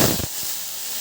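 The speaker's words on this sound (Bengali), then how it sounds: "এই যে তেল গরম হয়ে গেছে, তারপরে দিয়ে দেবো তেজপাতা" Bay leaf dropped into hot oil for a Bengali potato and pointed gourd dish, giving a loud burst of close sizzling and crackling that settles into a steady hiss.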